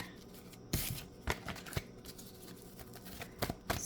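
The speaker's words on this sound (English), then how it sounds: "I feel I should shuffle one more time" Tarot cards being shuffled by hand, a series of brisk papery riffles and soft slaps in uneven bursts, close and fairly quiet with no talking.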